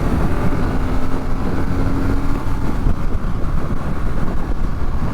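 A BMW R 12 S motorcycle rides onto a highway, its engine drone blended with heavy wind buffeting, loud and steady throughout with no speech.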